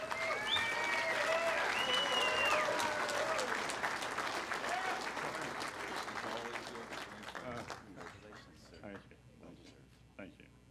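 Audience at a business hall of fame ceremony applauding and cheering an inductee's arrival on stage, loud at first with shouts, then thinning out and fading toward the end.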